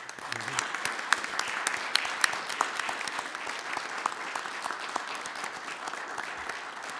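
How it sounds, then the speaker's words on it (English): A city council meeting audience breaks into applause, a sustained crowd of hands clapping with sharp individual claps popping out of the steady patter for several seconds. "I'm going to ask for an applause because they are wonderful"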